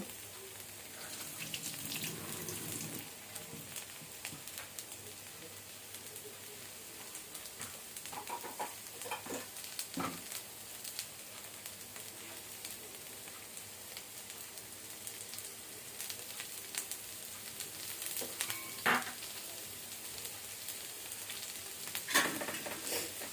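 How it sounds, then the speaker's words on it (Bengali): Dried red chilies fry in oil with a soft, continuous crackling sizzle and occasional stirring clicks, faint and steady over a long stretch, without talk. "তেলটা দিয়ে আমি আগে এই শুকনো মরিচগুলো ভেজে নিব"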